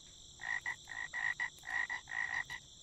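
Frog croaks from a Gorilla Tag mod menu in the virtual reality game repeat in quick pairs of short, bright calls at a steady rhythm over a faint background hum.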